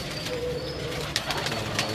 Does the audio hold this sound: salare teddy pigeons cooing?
yes